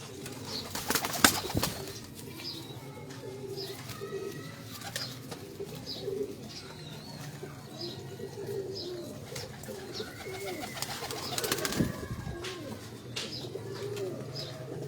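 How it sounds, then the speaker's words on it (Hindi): Pigeons coo repeatedly in a loft, with soft overlapping calls, a few chirps and brief bursts of rustling or wing movement near the start and end. "ये बांका कबूतर है।"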